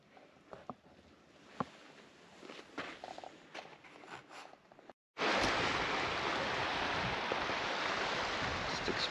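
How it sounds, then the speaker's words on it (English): Water running beneath the ground in Whitewater Canyon near Palm Springs: soft footsteps and faint rustling give way, after a brief gap, to a loud, steady rushing wash that fills the rest of the clip. "you can hear the water running under the ground"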